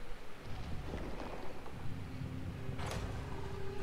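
Rain falls in the video game Gears of War 4, a dense, steady hiss with low rumble throughout, and a brief brighter swish near the end, with no voices.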